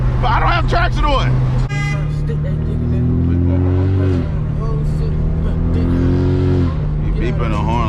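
A car horn honks behind a straight-piped, big-turbo BMW 335i as it drives, the long steady horn tones sitting over the loud engine drone while people talk inside the car.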